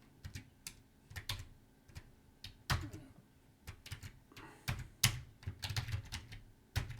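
Keystrokes on a computer keyboard entering a login ID and password, irregular bursts of close, crisp clicks with short pauses between, no talking.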